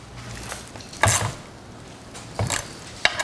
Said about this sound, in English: You need a 5mm Allen to tighten it up